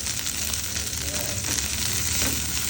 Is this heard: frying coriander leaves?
yes